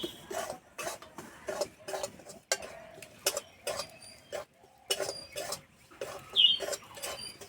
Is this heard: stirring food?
yes